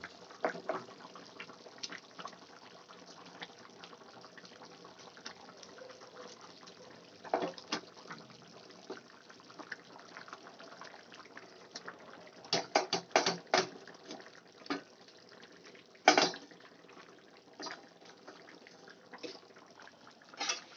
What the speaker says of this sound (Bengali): এবার আমি মাছগুলো এক এক করে দিয়ে দেবো।